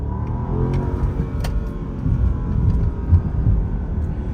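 A 2022 Bentley Flying Spur engine revs in a steady, deep, smooth rumble that swells slightly a few times, close and continuous with no talking.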